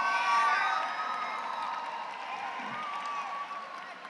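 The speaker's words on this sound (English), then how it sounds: "give me the loudest cheer that you can" A large graduation audience rises and cheers, a loud mass of shouts, whoops and high-pitched yells that peaks at the start and slowly tapers off over scattered clapping.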